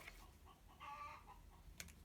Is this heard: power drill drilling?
no